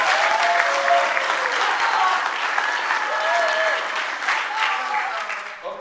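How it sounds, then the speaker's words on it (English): Sustained crowd applause filling the room, loud at first and gradually tapering, with some voices and cheers mixed into the clapping. "can we give one more round of applause for the good work everyone's doing here?"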